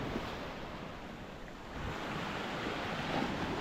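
Ocean surf rolls onto a public beach at Ayia Napa, a broad continuous roar of breaking waves with rushing wind buffeting the microphone, loud and close, no talking.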